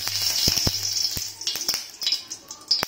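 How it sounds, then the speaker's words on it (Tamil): Mustard seeds splutter in hot oil in a home kitchen, a steady sizzle broken by sharp popping crackles scattered unevenly, close and fairly loud. "கடுகு வந்து நல்லா பொரிஞ்சதுக்கப்புறம்"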